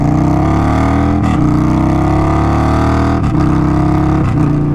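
Indian Scout Bobber motorcycle engine running close and loud with freshly upgraded spark plugs, a continuous throaty idle with a few quick throttle blips.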